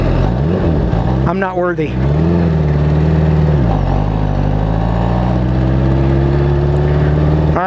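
A 2023 Kawasaki Ninja H2 supercharged motorcycle fitted with a Vandemon exhaust, engine running steadily and loud close by with a brief rev swell near the start, while someone talks over it.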